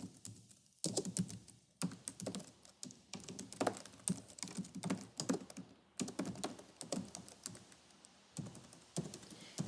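A computer keyboard is typed on in quick bursts of crisp, close keystrokes, with short pauses between runs of clicks and no speech.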